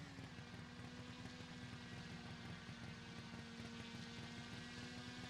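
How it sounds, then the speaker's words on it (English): Simulated propeller airplane droning steadily in the RealFlight RC flight simulator game, a constant engine hum with a fixed pitch, held at even loudness throughout with no talking. "He's got one of the airplanes that comes with the game."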